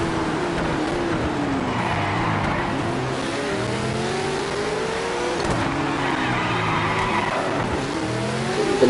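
A V8 Supercar in a racing video game, Ford versus Holden, slides through a corner with loud engine drone and rising, falling tyre squeal and skid, close and continuous without talk.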